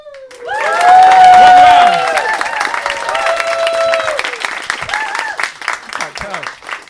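A comedy show audience applauds and cheers for a team at a stand-up night in Tokyo. A loud burst of clapping and whoops swells early, then keeps going with shouting and voices mixed in.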